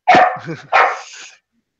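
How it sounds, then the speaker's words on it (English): A dog barks twice, close and loud, two sharp yelping barks in quick succession followed by silence. "Can't bark during the podcast."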